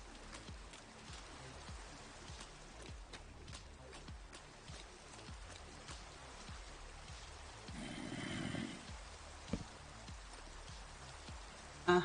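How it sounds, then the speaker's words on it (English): Rain falls in the video game Minecraft as a steady patter of fine drops over the whole stretch, with a brief louder watery swell near the end. "Rain."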